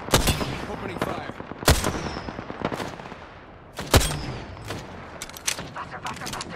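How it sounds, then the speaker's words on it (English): Gunfire in a shooter video game, with sharp close shots and bursts that crack out at irregular moments over a busy background of smaller pops and rumble. "Opening fire."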